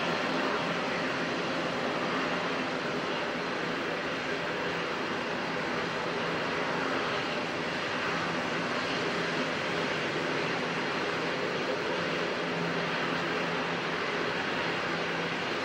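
Qantas jet arriving at Auckland Airport in crosswinds, a distant, moderate broadband engine rumble and wash that holds steady and fairly even the whole time.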